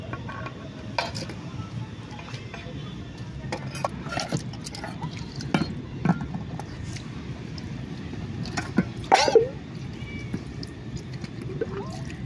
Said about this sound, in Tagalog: Ugasan natin yung plato.